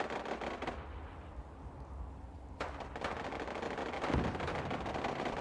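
A distant explosion from a defensive turret being destroyed in Fallout 4 gives a muffled low burst around the middle of a noisy, rumbling game soundscape with scattered gunfire-like crackles.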